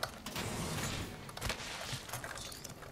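Door creaking shut in a video game, a drawn-out wooden creak with mechanical clicks and rattles, fairly close and loud within the game's ambience.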